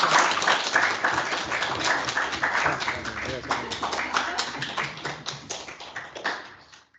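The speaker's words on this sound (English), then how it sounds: "Clap." Audience clapping after a lecture on Latin America in Lithuanian exile intellectual history, a dense steady patter of many hands for about seven seconds, fading out at the end.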